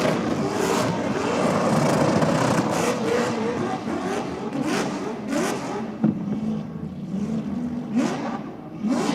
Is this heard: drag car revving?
yes